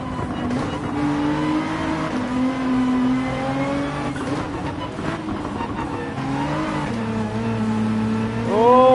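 Race car engine in Gran Turismo 7 revs hard and steady throughout, harmonic pitch climbing and dropping with gear changes, loud and continuous, with a faint possible tire squeal near the end.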